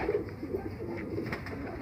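Prized pale millet-coloured pigeons coo softly in a short burst of low, throaty calls, close by and fairly quiet.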